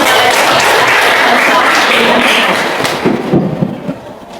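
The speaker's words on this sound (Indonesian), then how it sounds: "Baik, kita memberikan tepuk tangan." A classroom of students applauds together during a school lesson, a dense, loud burst of clapping that holds steady for about three seconds before thinning out into scattered claps.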